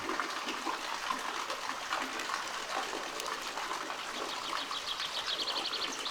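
Water gushes steadily out of the stone base of an old mill wheel pit, one of the region's last-built water wheels, a continuous close rushing wash with faint birdsong chirps toward the end.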